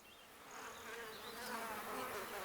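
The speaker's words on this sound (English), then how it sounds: "The worker bees are busy building a nest here." Worker bees buzz continuously around a wax nest under construction, a soft, steady swarm hum that swells slightly over a couple of seconds, fairly faint and close, with no voices.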